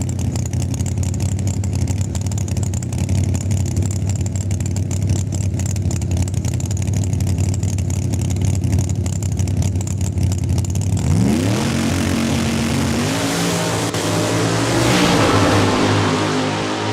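Drag race cars grudge racing at Saskatchewan International Raceway in Saskatoon: a steady loud engine drone holds for about eleven seconds, then engines rev and accelerate hard with rising pitch sweeps, close and powerful, with no talk.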